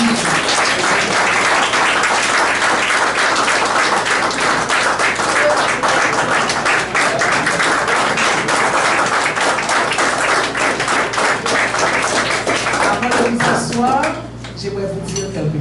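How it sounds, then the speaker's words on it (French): A church congregation at a Sunday service applauds loudly and continuously, with dense clapping that fades near the end; voices mingle with the clapping. "Je vous demande de les applaudir."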